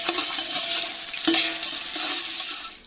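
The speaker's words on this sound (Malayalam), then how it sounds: "ചൂടായ എണ്ണയിലേക്ക് ഉള്ളിയും കുത്തിയ മറ്റേ ഏലക്കയും ഇഞ്ചിയെല്ലാം എടുത്തിട്ട് അല്ലേ?" Chopped onion, crushed cardamom and ginger fry in hot oil, a continuous bright sizzle with a few soft stirring scrapes, close up and alone.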